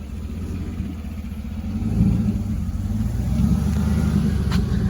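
A stock truck with a chopped muffler gives a steady, throaty exhaust rumble that builds slightly as the engine is pushed, heard up close and continuous with no talking.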